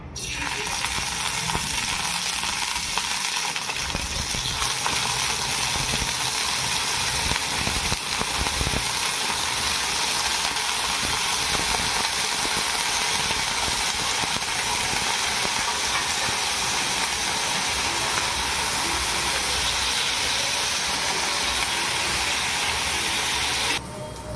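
Paneer sizzling and frying in a little hot oil in a heated pan for a matar paneer dish, a steady loud broadband hiss and crackle that carries on without a break and with no talk.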